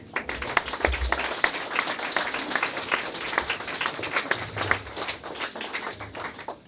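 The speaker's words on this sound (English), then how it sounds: "Let's give a round of applause." Audience applause at a rehab center ribbon cutting, a steady crowd of hands clapping throughout with sharp individual claps standing out, fairly close and lively, with a few voices mixed faintly underneath.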